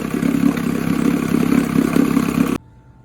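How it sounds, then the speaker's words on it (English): A Johnson/Evinrude OMC outboard engine with freshly reset carburetors idles smoothly and loud, an even throbbing rumble that cuts off abruptly near the end. "If we slow it down, it has a real nice idle."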